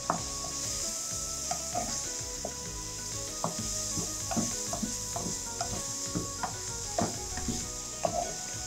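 Chicken pieces sizzle steadily in a hot pan while a spoon stirs and scrapes them, giving a constant frying hiss broken by irregular clacks and scrapes.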